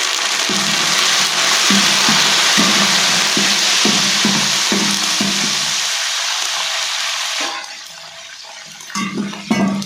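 Loud, steady hissing sizzle of chillies, dried red chillies and curry leaves frying in hot oil, with repeated stirring scrapes, quieting near the end before a few clatters.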